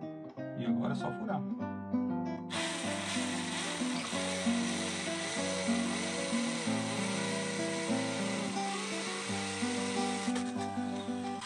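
A power drill bores a hole while a dust-collecting attachment marks the spot, giving a steady, close, continuous whine that runs for several seconds after a brief start-up.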